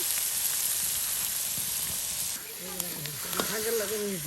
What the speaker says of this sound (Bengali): পেঁয়াজ মরিচ রসুন লবণ সব কিছু দেওয়া একসাথে তেলে ভাজা ভাজা করে নেওয়া হচ্ছে দেখুন